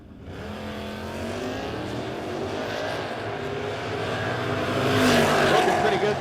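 A Krins Automotive Camaro drag car launches down the strip, its engine roaring steadily and building louder toward the end of the run, heard alone and up close.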